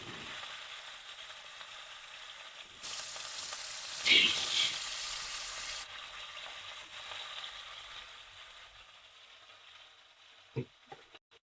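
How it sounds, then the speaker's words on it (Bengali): Rohu fish pieces dropped one by one into hot oil, setting off a loud sizzle that swells at about three seconds, then eases to a steady crackle with a few sharp clinks of a utensil near the end. "এবার তেলটা গরম হয়ে গেছে, আমি মাছটা দিয়ে দিলাম। এক এক করে মাছ আমি ভেজে নেব।"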